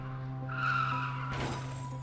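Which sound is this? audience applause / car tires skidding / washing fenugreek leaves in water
car tires skidding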